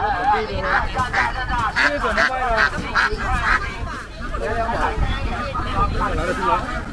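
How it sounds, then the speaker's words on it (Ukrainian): Repeated nasal honking calls from a goose for sale ring out close by over a busy market crowd murmur in Hainan, China, several honks in quick irregular succession. "Продають гуся."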